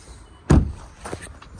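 A car door on a 2008 Land Rover Discovery 3 HSE is opened for getting into the back seat, giving one loud close thunk followed by softer knocks and shuffling.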